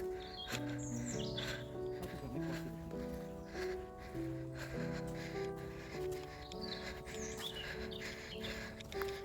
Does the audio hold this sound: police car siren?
no